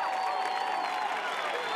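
A Solheim Cup golf crowd roars and applauds in one brief, dense, sustained burst of cheering, loud and fairly close, with no separate voices standing out.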